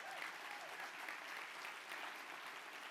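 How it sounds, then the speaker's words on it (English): Steady school-community audience applause at a district State of the Schools event, a dense wash of many hands clapping continuously at even loudness throughout, with no voices over it. "Give yourselves another round of applause for 3 stars."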